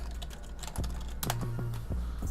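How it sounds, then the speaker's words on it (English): Rapid keystrokes on a computer keyboard clatter in an uneven run of close, crisp clicks, with a few heavier key presses standing out over steady low background hum. "I wish typing meant something"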